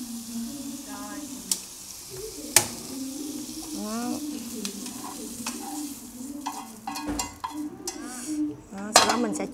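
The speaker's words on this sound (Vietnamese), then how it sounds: "mình nhẹ nhàng mình trộn cá lên đã" Fish is gently stirred in a cooking pot with fatty pork before braising, giving a steady run of scraping, clinking utensil-on-pot sounds over a soft sizzle, close by and fairly loud.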